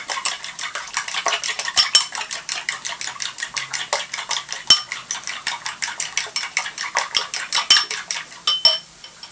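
A utensil beats eggs rapidly against a bowl, producing a steady stream of bright metallic clinks close by for several seconds.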